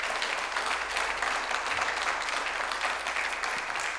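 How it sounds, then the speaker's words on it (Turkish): A television word-game studio audience applauds steadily, a dense even wash of clapping that holds throughout without talk over it. "Bir alkış verin de kendimize gelelim."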